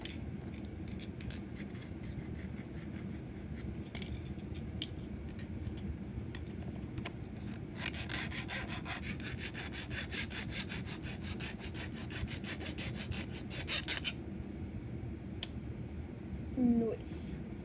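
A hand file rasps against a rock in steady back-and-forth strokes, close and fairly faint, continuing throughout with a brief bump near the end.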